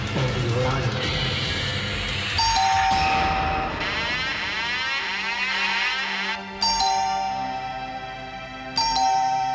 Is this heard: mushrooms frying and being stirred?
no